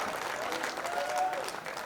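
Sustained audience applause at a Hindi kavi sammelan poetry recital, a dense steady wash of many hands clapping with faint crowd voices mixed in throughout.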